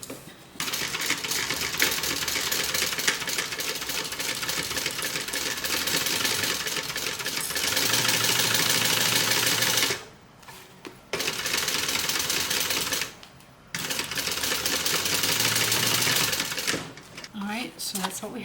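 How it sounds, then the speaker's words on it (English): A sewing machine runs steadily, top stitching along a bag, in long continuous bursts with two brief pauses and a final short stop, a voice speaking faintly over the rattle. "Okay, so now we're going to top stitch."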